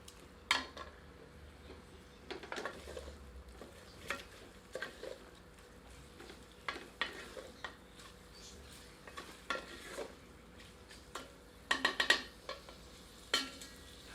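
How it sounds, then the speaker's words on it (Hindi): Chicken roasting in mustard oil in a pan over medium heat, a soft steady sizzle with intermittent scraping and stirring clatters of a utensil against the pan, fairly quiet and close with no talking. "अब मध्यम आंच पर इसे 2 से 3 मिनट भूनते हैं"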